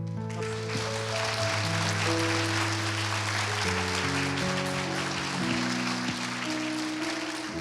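A church congregation at a revival service claps loudly and steadily to welcome the guest pastor, a dense sustained applause with music playing underneath throughout.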